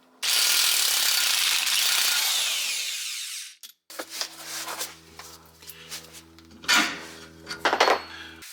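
An impact driver drives a self-tapping screw into a 589 Fabrication rear shock skid on a 2015-2022 Chevy Colorado. A loud, steady whir runs for several seconds and stops abruptly, followed by scattered metallic clanks and knocks.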